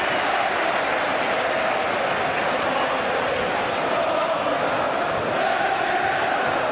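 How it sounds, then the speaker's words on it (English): A football crowd at Anfield applauds Liverpool's Kuyt during a Premier League match against Chelsea, a broad, continuous roar of clapping and cheering from the stands that holds steady throughout. "So we can hear the appreciation of the crowd."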